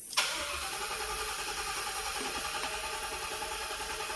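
A car engine cranks with a quick starter burst and catches almost immediately, then settles into a steady, loud idle heard up close for the rest of the clip.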